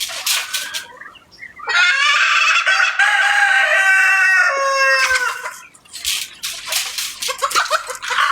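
Chickens and ducks in a backyard poultry yard: a loud, drawn-out rooster-like crow fills the middle, with clucking and sharp calls from the birds before and after, close by.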